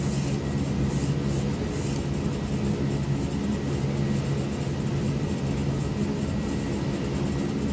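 A steady, droning piston engine of a DC-3 on landing approach in Microsoft Flight Simulator 2020, a continuous, even hum holding throughout with no pauses.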